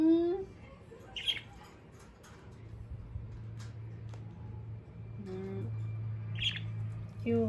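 A budgie parakeet gives scattered chirps and squawks indoors, several short calls spread out over a low hum, with some voiced sounds mixed in.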